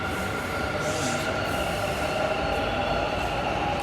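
A metro train runs past Hosahalli with a steady, close rumble and a sustained high wheel squeal that holds evenly throughout, with no voices.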